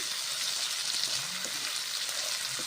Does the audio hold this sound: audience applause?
no